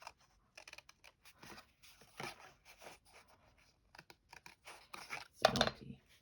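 Quiet, irregular snips and scrapes of scissors cutting through paper, in short bursts with pauses, close by and alone.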